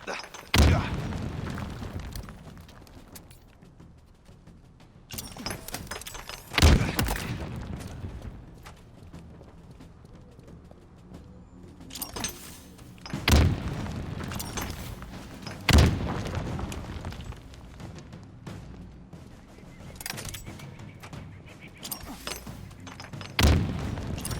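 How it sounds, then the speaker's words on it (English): Frag grenade blasts from the video game Halo Infinite, several heavy booming detonations spaced a few seconds apart over a low rumbling game background, with no talk. "Hate these current frag grenades compared to the old ones too."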